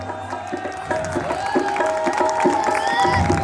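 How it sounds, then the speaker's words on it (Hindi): Applause and crowd noise rise from the audience at a Ramlila stage play, building steadily through the clip under sustained tones from music or voices. "और तालियां"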